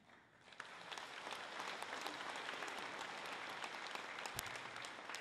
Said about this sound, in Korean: 목사님 지금 나오실 적에 환영의 박수로 맞이해 주시기를 바랍니다